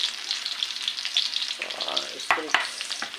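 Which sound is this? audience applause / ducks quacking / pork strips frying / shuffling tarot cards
pork strips frying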